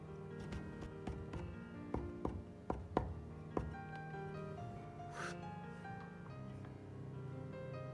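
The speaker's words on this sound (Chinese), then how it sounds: "葱叶切成葱花。" A knife cuts scallion greens on a cutting board with a quick series of sharp, close taps in the first few seconds, followed by quieter background kitchen sound.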